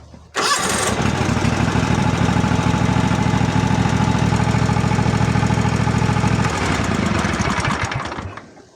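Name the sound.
Kawasaki FH-series mower engine starting and idling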